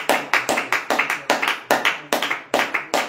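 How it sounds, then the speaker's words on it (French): A congregation at a morning prayer service claps in a steady, fairly quick rhythm of about a dozen sharp claps, close and loud, with no talk over them. "acclamons, acclamons, acclamons, acclamons"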